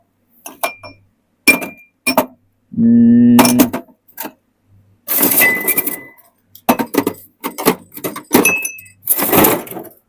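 Cocktail glasses clink and chink against each other as a bartender sorts through them, with bright ringing knocks and one longer scraping rattle, close and loud, in irregular bursts.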